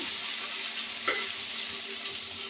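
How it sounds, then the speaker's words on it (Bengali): Chicken biryani being stirred in a pot, a steady sizzling hiss throughout with one brief scrape of the spoon near the middle, close and without speech. "এই যে একটা নাড়া দিচ্ছি"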